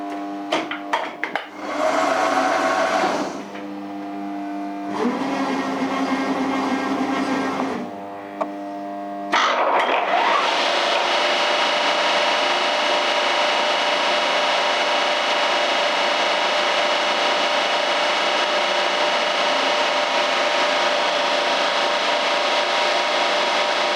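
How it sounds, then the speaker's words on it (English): A CNC machine with a prepositioned cutter drills a 2 mm deep hemisphere into a workpiece. Humming motor tones come first, then a loud, steady broadband cutting roar runs without talk. "The thing will start its machining from the beginning at 2mm above the workpiece."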